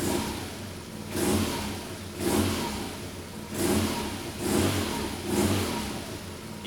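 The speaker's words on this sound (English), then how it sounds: "Let's rev it." An engine fitted with a YRS Titanium exhaust and dB killer revs in about five rising-and-falling bursts, each throaty surge dropping back toward idle between blips, heard fairly close; a single brief word is spoken.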